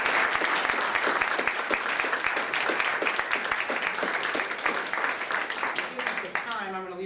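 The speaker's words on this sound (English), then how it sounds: "Give these guys a round of applause." Loud, sustained audience applause from a lecture crowd, dense overlapping claps throughout, with a voice briefly speaking near the end as the clapping fades.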